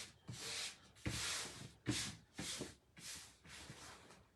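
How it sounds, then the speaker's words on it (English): Pillowcase fabric being smoothed by hand onto a sticky ink mat: soft, close rubbing and swishing strokes repeated in a steady rhythm, about six passes. "I am getting to smoothing out all the wrinkles because it's just sticking"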